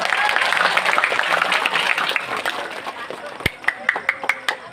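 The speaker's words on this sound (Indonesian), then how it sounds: "Sekali lagi tepuk tangannya Bapak Ibu." Audience applause at a religious sholawat gathering, a dense wash of clapping that thins into a few separate, louder claps near the end, with a voice speaking underneath.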